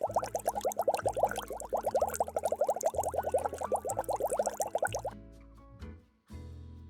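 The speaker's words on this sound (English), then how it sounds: "I use the heat gun to pop bubbles" A heat gun passes over thick leftover resin, popping its bubbles in a rapid, steady run of small wet plops. Music plays underneath, and the popping stops near the end.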